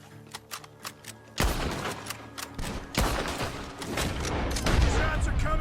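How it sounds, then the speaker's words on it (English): Gunfire erupts from a barn in Red Dead Redemption 2, with dense, overlapping rifle and pistol shots cracking out in loud rapid bursts that merge into a sustained volley. "Shots are coming from that barn!"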